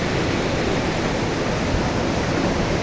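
Floodwater of the swollen Bermejo River rushes in a dense, continuous roar, loud and close, with no voices over it.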